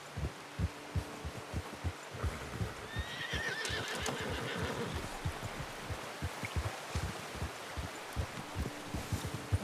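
In the video game Red Dead Redemption 2, a horse's hooves clop in a steady rhythm throughout while the horse whinnies once midway, a quiet outdoor scene with no talking.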